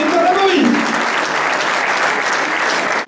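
Loud, continuous applause fills a pastry award ceremony for the Alsace region, and a brief voice rises over the clapping near the start before the sound cuts off abruptly at the end.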